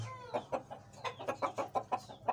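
A Rampuri hen clucks repeatedly in a quick, uneven rhythm, fairly close but soft, over faint background hum.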